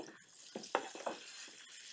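Olives, garlic, lemon zest and anchovies go into a frying pan with butter and olive oil, giving a soft, steady sizzle with a few brief stirring scrapes.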